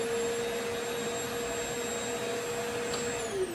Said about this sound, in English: I will turn on the backpack vacuum on high again